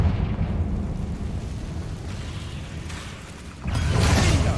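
A Confringo fire spell bursts in the Hogwarts Legacy video game, a loud rumbling blast that swells again near the end over a dense, continuous low roar.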